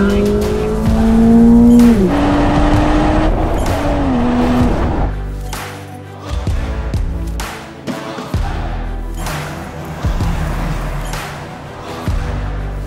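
Toyota GR 86, GR Corolla and GR Supra driving on the Sepang race track, engines revving and rising through gears loudly, with tyre squeal and cars passing close by over a steady roar.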